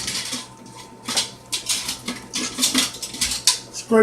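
A spatula scrapes down a mixing bowl of chocolate rum cake batter in a home kitchen, giving a series of close, rhythmic scraping and tapping strokes in uneven bursts.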